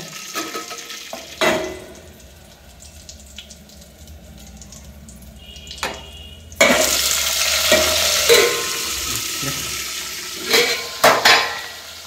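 Hot oil sizzling in a cooking pan, quiet hiss with sparse clinks early on, then a louder burst of frying sizzle midway that continues with occasional utensil knocks and scrapes; no voices.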